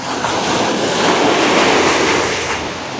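Sea waves wash onto the shore in a broad, continuous hiss and roar, with some wind noise and no voices.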